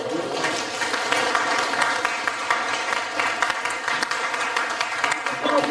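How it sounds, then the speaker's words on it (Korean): Audience applause at a Korean economic forum in Gwangyang, a steady mid-level patter of clapping from a seated crowd lasting several seconds, with voices faintly mixed underneath. "이제 박수 한번 보내드리시죠."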